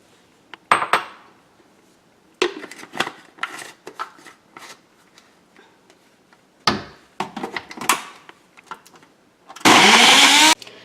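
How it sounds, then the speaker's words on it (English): A blender purees dried figs and dates, running in short loud bursts between clattering and knocking from the jar and kitchen, ending with a harsh, full-power whir. "So I'm going to add them to the dates and we are going to blend them both to a puree consistency."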